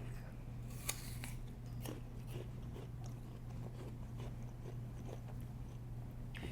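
Someone bites and chews into a caramel and chocolate coated apple pop, giving a few sharp crunchy snaps followed by softer scattered chewing clicks over a low steady hum in a quiet room.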